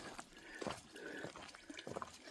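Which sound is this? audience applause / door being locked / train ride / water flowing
water flowing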